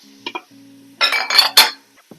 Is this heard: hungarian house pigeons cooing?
no